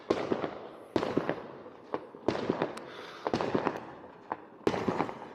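Fireworks bursting outdoors in a series of loud booms and crackles, spaced a second or so apart, with crackling trails between the bigger blasts.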